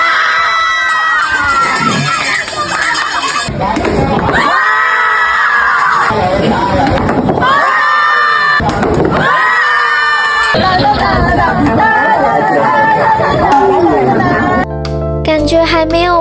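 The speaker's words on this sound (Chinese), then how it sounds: "接下来的画面基本上就是他丢中我们就尖叫" At an amusement park game in Hong Kong Ocean Park, a group of people scream and cheer in repeated loud bursts as a player wins prizes, with shouting and chatter between the outbursts.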